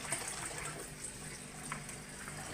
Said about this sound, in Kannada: ಇನ್ನೊಂದು ಸ್ವಲ್ಪ ನೀರು ಹಾಕಿ